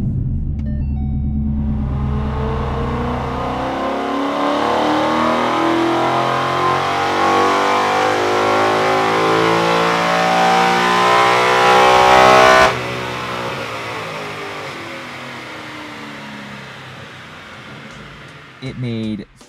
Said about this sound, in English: I'm gonna get it fired up and do our baseline pull with the first intake manifold.